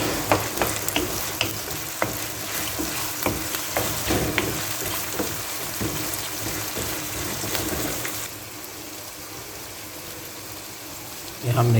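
Minced meat (keema) fries in a pan with a loud, dense sizzle and repeated stirring scrapes, close up and continuous, then the sizzle thins and quiets near the end before a brief louder burst.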